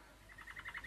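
A yellow pet bird chirps in a radio play, a quick run of about six bright, evenly spaced tweets, faint and close, with no talking.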